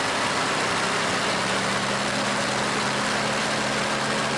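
A Bristol Mercury radial engine on a Westland Lysander aircraft roars steadily throughout, loud and unchanging, with a low hum beneath a broad rushing noise.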